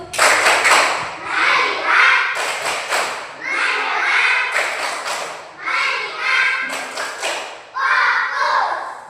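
A class of schoolchildren performs a rhythmic clapping chant in bursts, sharp patterned claps mixed with group voices, pausing briefly between phrases across the whole stretch.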